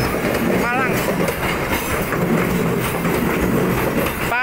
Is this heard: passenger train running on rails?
yes